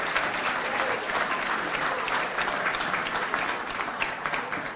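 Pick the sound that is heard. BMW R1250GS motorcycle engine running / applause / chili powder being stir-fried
applause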